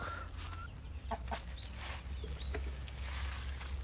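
Chickens cluck and chirp intermittently outdoors over a steady low hum, with a few sharper bird calls mixed in at moderate distance.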